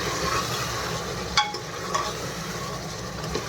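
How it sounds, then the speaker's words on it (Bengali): Mutton frying with spices in oil, a soft steady sizzle close by with a few sharp clinks of a spoon stirring the pan. "এই যে মাংসটা কষাচ্ছি, তেলটাও ছেড়ে দিচ্ছে।"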